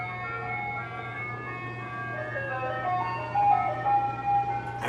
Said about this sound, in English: Can you hear that ice cream truck?